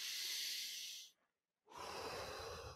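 A single deep breath taken near the microphone: a long airy inhale that fades into a brief pause, then a strong, rushing exhale, with no talking.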